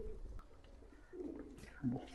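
Soft cooing from lakka pigeons sounds close by, a few low throaty calls with brief pauses between, over faint background noise.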